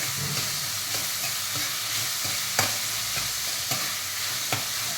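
Sweetcorn and capsicum sizzle and fry in a pan for sweetcorn-capsicum Schezwan fried rice, a steady loud crackle with occasional sharp scrapes and clanks of stirring, no voices.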